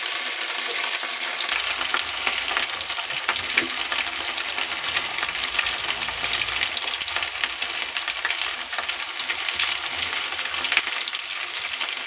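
Potato pieces fry in a hot pan with a dense, constant sizzle that stays loud and close throughout, with occasional stirring and no speech.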